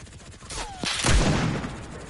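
Video game gunfire crackles in a rapid burst of sharp shots with booming impacts, loud and close, then fades into a rumbling tail.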